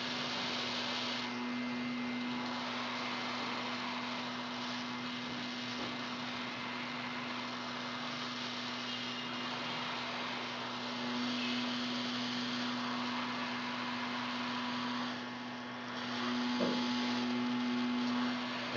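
A BGA hot air blower heats SMD ceramic capacitors on a circuit board during removal, giving a steady, continuous airflow hiss with a constant low electrical hum, unbroken and fairly loud throughout, with slight swells near the end.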